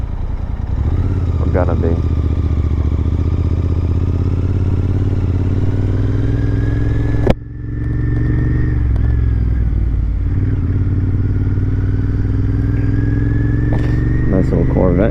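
A cafe racer motorcycle riding on the road, its engine a steady loud drone with wind rush; a brief drop as it nears neutral and then pulls on, with a short bit of talk over it.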